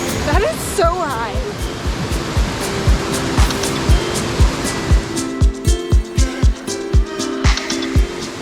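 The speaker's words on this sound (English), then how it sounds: "this could easily be the biggest waterfall and the coolest waterfall we've ever seen" A large two-tier waterfall in the Columbia River Gorge, with ice at its base, sends up a loud, steady roar of rushing water, while voices and other sounds of people nearby run over it.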